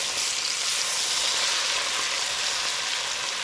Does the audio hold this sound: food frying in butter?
yes